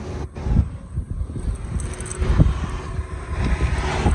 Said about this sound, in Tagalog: Ayun, hangin